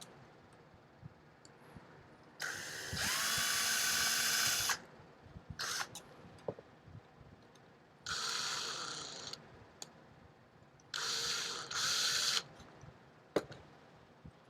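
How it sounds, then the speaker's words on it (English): An ordinary drill bit bores holes through aluminum, the motor whining in three loud bursts of a second or two each, separated by quieter clicks and handling noise. "you can find your normal drill bit to make these holes"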